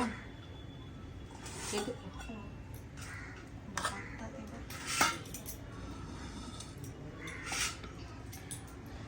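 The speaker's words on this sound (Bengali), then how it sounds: "এবার পেঁপে সিদ্ধ এখন মাখাবো" Boiled papaya being mashed in a kitchen, soft squishing with scattered clinks of a utensil against a dish, a few sharper knocks standing out, while a voice talks nearby.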